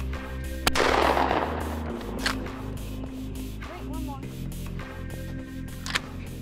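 Pistol gunshots at a shooting range, one sharp loud report followed by a few fainter shots, with ringing ambience and some background voices.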